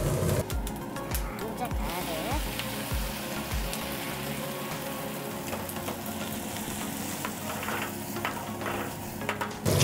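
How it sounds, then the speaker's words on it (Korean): Battered fried oysters tossed with sauce in a pan over high heat crackle and sizzle steadily, with rhythmic scraping strokes early on and a voice talking over the cooking. "자, 좀 강한 불에서 살짝 졸이듯이 좀 볶아주세요."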